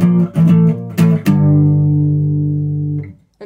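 An electric guitar plays power chords from a song: a few short, sharp strums, then a sustained chord that rings loud and clear before being cut off, with no voices.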